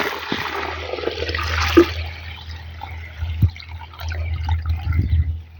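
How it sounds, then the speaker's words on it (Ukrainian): A six-litre bucket of water is poured into soil in a garden hole, a rushing gush followed by trickles and drips soaking in, close and moderately loud. "вилю сюди відеречко води 6-літрове"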